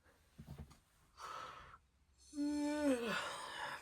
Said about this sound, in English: I'm going to yawn